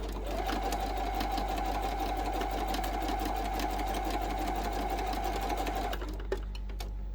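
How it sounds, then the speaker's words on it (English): Sewing machine stitching a fabric bookmark, running in a steady, fast mechanical whir with rapid needle clatter for about six seconds before stopping with a click, close and fairly quiet. "we want to do a back stitch there"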